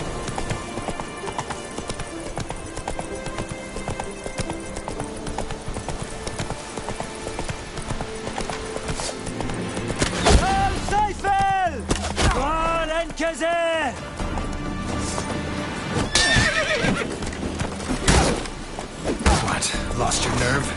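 Roach, a horse in The Witcher 3 video game, gallops with a rapid, continuous clip-clop of hooves, and a couple of short whinnies rise midway amid game ambience.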